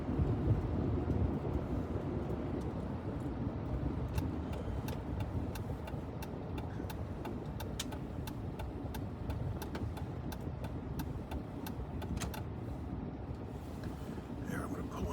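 A car drives back roads after an ice storm, a steady broadband road and engine rumble with wind buffeting, while sharp crackles and ticks of ice or debris strike through the middle of the run; no talk.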